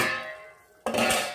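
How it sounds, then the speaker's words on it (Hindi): A lid is set onto a pot of chicken curry cooking on the stove, giving a single sharp metallic clink near the end of an otherwise quiet moment, close and fairly soft. "अब फिर से इसको ढक्कन लगा देते हैं"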